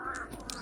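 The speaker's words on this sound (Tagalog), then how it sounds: "Grabe talaga itong uwak to." A crow caws close by, a few harsh calls in quick succession over steady outdoor background noise.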